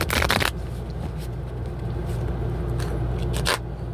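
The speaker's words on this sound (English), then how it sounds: "One more shuffle." Cards are riffled in a quick burst at the start and again near the end, with a steady low hum running underneath throughout.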